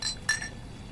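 Two light glass clinks from a toast among friends at a dinner table, brief and fairly close, with a quiet background.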